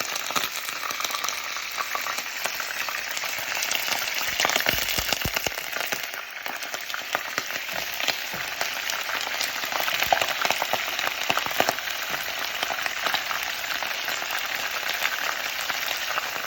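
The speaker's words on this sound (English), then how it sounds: "And then we're going to add the meat in. Be careful, it's sizzle." Meat sizzles loudly and steadily in a hot pot for cauliflower meat curry, a dense crackling hiss that holds for the whole stretch with no talking.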